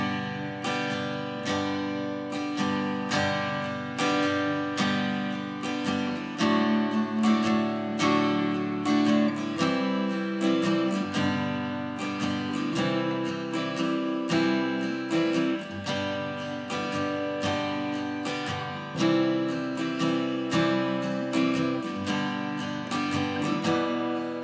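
Silent Night picked on an acoustic guitar at regular tempo, a steady melody of plucked notes with chords ringing under it, close and clear with no voices.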